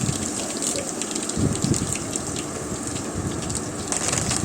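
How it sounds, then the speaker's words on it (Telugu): Curry leaves hit hot oil with garlic in a pan for a potato fry, giving a loud, close, crackling sizzle that swells with sputtering bursts and continues steadily. "ఇప్పుడు కొంచెం కరివేపాకు వేస్తున్నాను"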